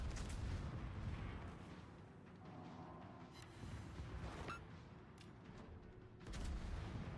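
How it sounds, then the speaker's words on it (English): Distant battleship gunfire in a video game, deep rolling booms and artillery-like blasts rumbling continuously with a few sharper reports, heard alone without talk. "Battleship in the distance."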